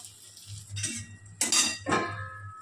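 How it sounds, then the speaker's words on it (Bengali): A metal plate is set over food in a pan, giving a few close clattering scrapes and clinks of metal on metal, three short bursts in quick succession with quiet between them. "এই থালটা দিয়ে ঢেকে রাখবো"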